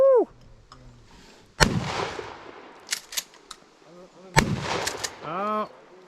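A .22 rifle fires outdoors, with two sharp loud cracks a few seconds apart, each followed by a brief ringing tail, amid scattered background noise.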